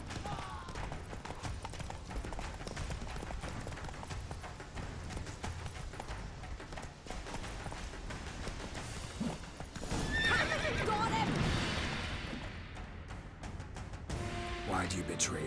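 Roach, a horse in The Witcher 3, gallops with rapid clip-clop hoofbeats throughout, then gives a loud neigh midway amid game sound effects.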